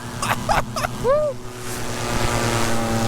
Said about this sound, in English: We got nitrous on our paramotor!